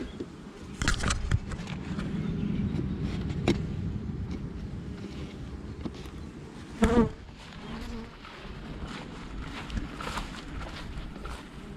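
Honeybees buzzing close by at an apiary hive, a steady droning hum with individual insects passing near, plus a few clicks and light handling noises.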